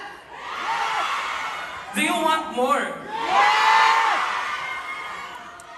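A concert crowd in San Francisco cheers and screams in loud swelling waves, answering a performer who speaks to them over a microphone between bursts.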